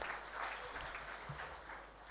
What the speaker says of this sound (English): Please, again, a round of applause for Mr.